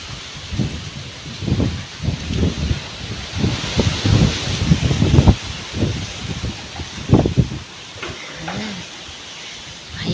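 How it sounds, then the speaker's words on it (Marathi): Strong morning wind gusts buffet the microphone in a village, with rustling and rumbling bursts rising and falling continuously, no voices. "सगळा वारा लय जोरात वारा सुटलाय सकाळ सकाळी"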